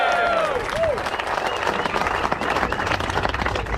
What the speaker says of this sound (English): Big round of applause for MSR for letting us soil their paddock for 13 years.